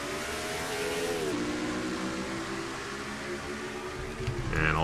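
A pack of race cars accelerates on a restart during the AAA Missouri 300 in the NR2003 racing game: layered engine drones rise in pitch, shift down, then climb again, loud and steady with no talking.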